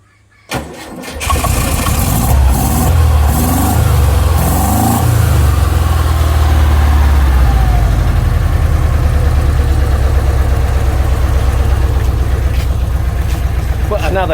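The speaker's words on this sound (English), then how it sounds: "So start it up again now, Pete, see if it's running." A Jaguar car engine, earlier running on only two cylinders because of a wrong firing order, cranks and catches, then settles into a steady, loud idle that runs on to the end.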